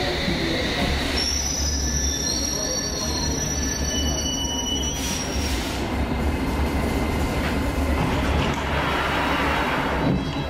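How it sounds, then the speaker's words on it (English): An underground train on the Circle line pulls into a station, its wheels squealing in high, sustained tones over a loud, rumbling rush of carriages that keeps going for the whole stretch. "This underground train coming into a station"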